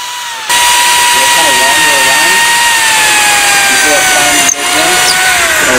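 A portable electric drill bores into wood, its motor whining loudly and steadily for several seconds with slight pitch shifts, then briefly dropping off before spinning back up.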